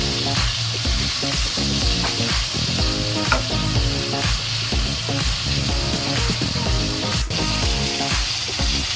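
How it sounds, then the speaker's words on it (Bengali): Chicken pieces frying in butter in a pan give a loud, continuous sizzle with crackling bursts and occasional stirring scrapes, close up and without talk. "এখন আমি এই প্যানে বাটার দিয়ে চিকেনগুলো একটা একটা করে ভেজে নেব।"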